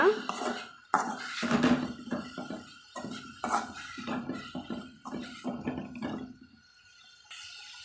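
A metal utensil scrapes and clinks against a pan while stirring spices into a black nightshade greens stir-fry, in irregular bursts, close and fairly quiet, with short pauses between strokes.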